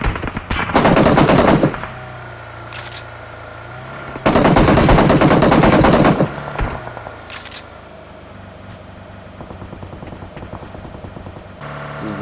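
Heavy automatic gunfire in the PUBG Mobile battle royale game, two loud sustained bursts of rapid shots with a few scattered single cracks between them, then quieter distant game ambience.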